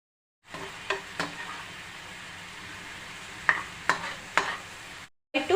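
A pan of Kerala fish curry bubbles and sizzles softly at a steady level over a low flame, broken by a few sharp clinks of a spoon stirring.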